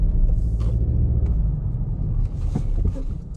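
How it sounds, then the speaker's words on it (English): A white 2018 VW Golf R estate brakes hard in an emergency stop, a loud steady low road and engine rumble that shifts and dips partway through as the car sheds speed, with brief hissing bursts on top. "I'll perform an emergency stop to show the brakes do work exactly how you'd expect"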